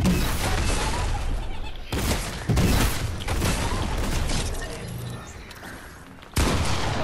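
A shotgun fires in a Star Wars shooter game, heavy blasts breaking through a busy battle mix of gunfire and effects, with several loud bursts at irregular moments.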